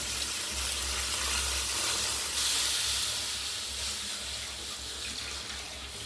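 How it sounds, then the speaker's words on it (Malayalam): Water pours into a hot pan of spluttering spices with a rushing hiss that swells briefly, then settles into a steady bubbling sizzle, close by. "ഈ സമയത്ത് നമുക്കത് അതിലേക്ക് വെള്ളം ഒഴിക്കാം"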